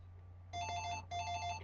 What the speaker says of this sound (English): Oh, Jesus Christ, it's the phone.